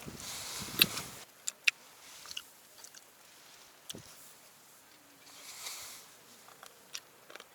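Close, wet chewing of fresh seafood such as octopus on Biyangdo island in Jeju, soft squishy bites and a few sharper crunchy clicks over quiet outdoor background, no speech.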